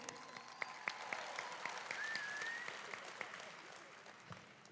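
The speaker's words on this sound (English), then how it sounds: "please give yourselves a round of applause" A graduating high school class of 2021 applauds at its commencement ceremony, a faint, distant wash of clapping with a few sharper individual claps standing out throughout.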